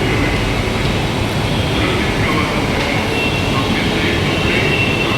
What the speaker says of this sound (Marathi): मेट्रो स्टेशनला आलेलो आहोत आम्ही.